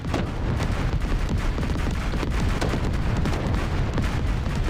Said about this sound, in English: Yeah, my guns went berserk.